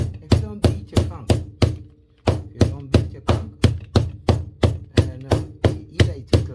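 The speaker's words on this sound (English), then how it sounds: "you just get a clean plastic bag and you just continue to beat your conch" Raw conch being pounded inside a clean plastic bag, a steady run of about seventeen sharp, heavy thuds at a regular pace with one short pause, close and loud with no talk.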